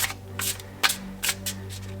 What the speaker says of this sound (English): It works nicely, both riffle and hand over hand.